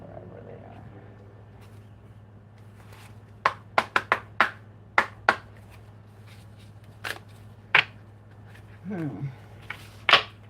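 Astrology cards are handled and pulled from a deck, making a run of crisp separate snaps and flicks at uneven intervals close by, with a brief spoken word partway through.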